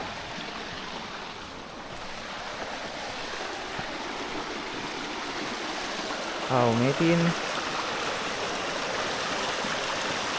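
Steady water rushing over Badger Weir near a picnic-area footbridge, a constant broadband wash filling the whole clip, with a brief voice speaking partway through.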